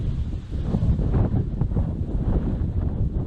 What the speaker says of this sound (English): The wind is getting up now